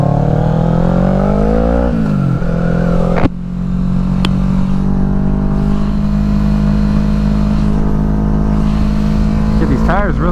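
A car with a catless exhaust holds a loud, raspy, steady high-rev drone while doing a burnout to warm its tires, engine pitch climbing briefly then sustaining, close and dominant, with a voice over it at the end.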